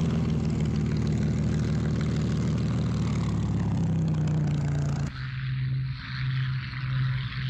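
Spitfire fighter aircraft engines run in a line of planes awaiting test flights, a loud continuous propeller drone that shifts pitch partway through, with no talking.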